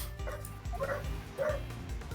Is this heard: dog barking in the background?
yes